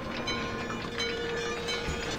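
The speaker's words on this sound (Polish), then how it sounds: "właśnie pociąg tutaj prawdopodobnie jechał, więc my sobie jeszcze tutaj zaczekamy" A train passes in the video game Emergency 4 with the London mod, giving a steady, dense rumble with a rhythmic rail clatter that stays constant throughout, with no talking.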